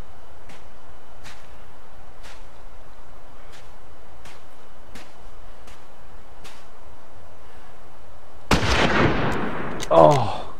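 A single loud gunshot in The Long Dark, a survival game, cracks out suddenly near the end after a stretch of quiet wind with faint periodic ticks, followed by a brief rumbling echo.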